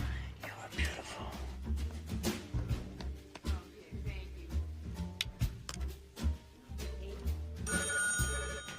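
A telephone rings in a scene from the film The Last Seduction, a repeated electronic trill set among scattered taps and rustles, with low voices and quiet sounds around it.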